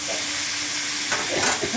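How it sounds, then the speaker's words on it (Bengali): Cauliflower fries in a pan with a continuous close sizzle, the hiss shifting as pieces are stirred and shuffled, with faint utensil scrapes toward the end. "কপি প্রায় হয়ে এসছে ভাজা।"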